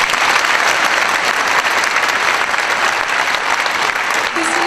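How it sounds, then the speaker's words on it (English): Audience applause at a school vocal concert for grades 5-12, a dense, steady burst of many hands clapping that fills the whole stretch with even loudness. "Yes, please clap for her."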